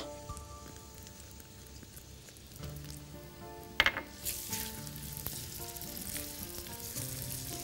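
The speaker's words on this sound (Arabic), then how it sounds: "هناخد دلوقتي البصل عندنا كمية هنا من البصل آه، شرايح وهنحطه هنا ومعاه التوم الشرايح" Sliced onion and garlic are dropped into a hot pan for an eggplant and kofta tagine and sizzle steadily. A clatter of the slices landing is followed by louder, continuous frying hiss, with faint background music and no speech.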